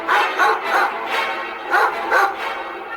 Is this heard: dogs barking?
yes